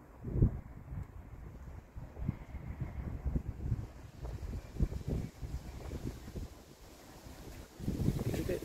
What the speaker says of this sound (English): It's a bit windy again.